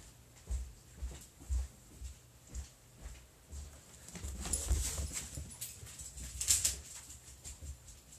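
A dog whimpers and pants nearby in a quiet room, with soft rhythmic breaths followed by higher whines, fairly faint and with no talking.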